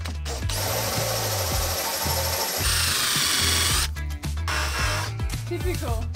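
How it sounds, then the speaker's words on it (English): A power drill whirs in bursts, its motor pitch rising and falling as holes are bored in old reused panels on a trailer house, close and loud with brief pauses between runs. "Now we are drilling the holes."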